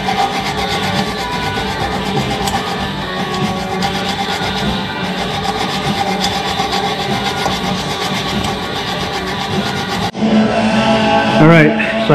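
A hacksaw cuts through the baffles of a Kawasaki Vulcan 900 Classic motorcycle exhaust pipe, a steady loud grinding rasp that runs on without pause and shifts to a harsher, choppier stroke near the end.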